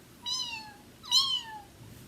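Two clear, drawn-out cat meows with falling pitch, close and fairly loud, separated by a short pause over a faint low background.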